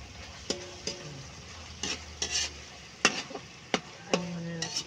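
Ampalaya (bitter gourd) with garlic and onion being stir-fried in a pan: intermittent clattering spatula scrapes and stirs over a steady low sizzle, close and moderately loud, with no talking.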